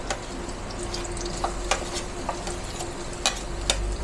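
Onion and garlic fry in a pan for catfish adobo with turmeric, giving a steady sizzle broken by scattered sharp crackles and spatter pops, close and fairly loud, with no talking.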